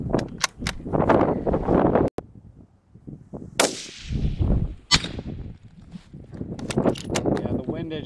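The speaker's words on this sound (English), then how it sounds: "Last 10 rounds." A Ruger Precision rifle in 6mm Creedmoor fires at a 1000-yard range, giving three sharp, loud cracks with short decaying tails, spaced a second or more apart, while people talk close by.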